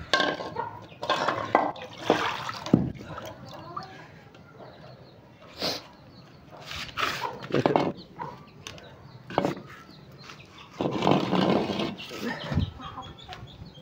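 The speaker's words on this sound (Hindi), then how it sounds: "ये कटोरे में पानी डाल देता हूँ," Water splashes and pours into a bowl in intermittent bursts, with chickens clucking nearby and occasional talk in the background.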